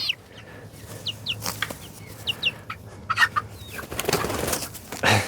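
Young pullets bought in from a hatchery cluck and peep in short, scattered calls close by, with brief rustles and a low steady hum underneath.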